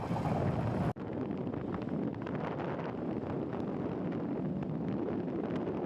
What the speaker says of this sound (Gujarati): ડેમ પર એવો વાયરો આવે છે કે